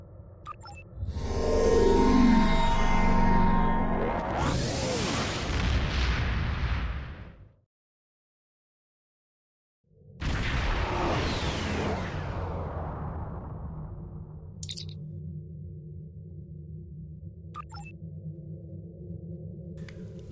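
Turret fire and explosions on a space station in Star Trek Online: heavy booming bursts and roaring blasts fill the first seven seconds, then a brief silence, then another loud blast that settles into a humming, rumbling background.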